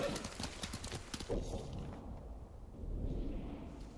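In the video game Ghost of Tsushima, horse hooves clip-clop in a quick, rhythmic gallop close by, fading after a couple of seconds into a low rumble.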